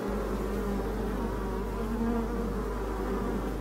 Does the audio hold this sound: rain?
no